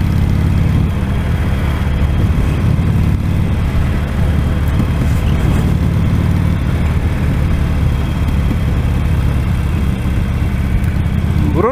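A Harley Davidson motorcycle engine runs steadily during a ride, a loud, continuous low rumble with constant road and wind noise and no pauses.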